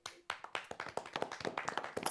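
A group of people claps their hands in a quick, uneven burst that quickly gathers into steady, crisp clapping, fairly faint and with no voices over it.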